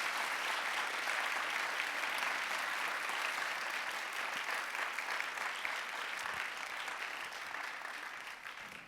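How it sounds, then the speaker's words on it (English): Sustained audience applause at a full participation event, dense and even clapping from a large crowd that holds steady and slowly tapers toward the end. "as demonstrated by that applause"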